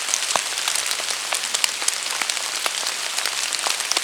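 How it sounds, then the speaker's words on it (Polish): Rain falls in a forest as a constant close hiss of patter, broken by distinct individual drops striking nearby surfaces. "W lesie jest pięknie nawet, nawet w deszczu."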